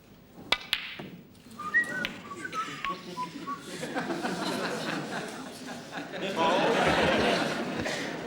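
A snooker player gives a short, pleasant whistle of a few rising and falling notes after a missed shot at a televised Wales v Canada match, followed by audience chuckling and murmuring that grows louder.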